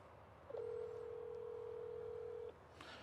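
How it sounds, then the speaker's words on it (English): A telephone keypad sends a single long dialing tone lasting about two seconds over quiet room hiss, followed by a brief faint rustle. "It's hard to dial with this phone."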